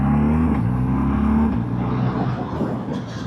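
A 2025 BMW R12 G/S motorcycle cruises at speed, its engine droning low and steady near the rider while the pitch shifts slightly, with wind rush rising toward the end.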